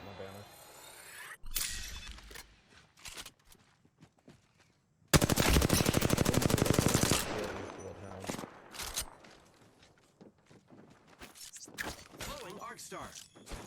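Gunfire in the video game Apex Legends: scattered single shots and cracks, then a loud sustained automatic burst lasting about two seconds, followed by more sporadic shots and impacts at a lower level.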